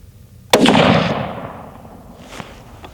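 A Remington rifle firing a single loud shot outdoors, a sharp close report followed by a long rumbling decay and faint echo.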